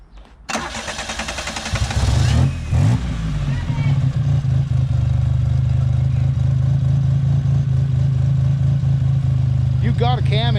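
A car engine with an aftermarket cam cranks and catches, flares up, then settles into a steady, loping idle that runs on close and loud, while people talk nearby.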